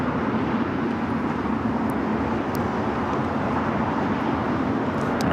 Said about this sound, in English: So got this British Airways 777 pushing back